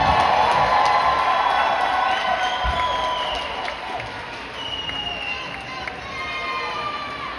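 Loud crowd applause and cheering fill a moving-up ceremony for a graduating class, with whoops and shouts over continuous clapping that eases slightly partway through.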